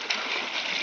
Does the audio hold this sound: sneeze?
no